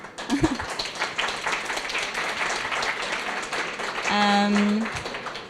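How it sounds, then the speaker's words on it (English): Applause from a conference audience at the close of Miaw 2015, sustained clapping from many hands that carries on steadily for several seconds, with a short voice near the start and a brief tonal sound toward the end. "I think we have to give her a big applause"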